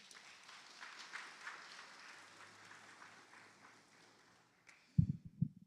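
A church congregation applauds steadily during a sermon, a dense wash of clapping that gradually thins and fades before a voice breaks in near the end.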